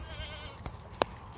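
A goat on a farm gives a single short, close bleat, with faint handling noises around it.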